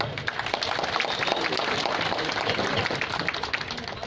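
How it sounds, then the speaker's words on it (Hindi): Steady, sustained applause from a crowd at a political address in a community hall in Chikkamagaluru, Karnataka, dense even clapping throughout at moderate level. "उन सभी के लिए भी एक जबरदस्त ताली हो जाए"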